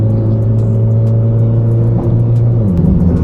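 A Mitsubishi Lancer Evolution X FQ-440 MR with an upgraded turbo accelerates hard, its engine drone loud, close and steady, climbing in pitch and then dropping at a gear change near the end.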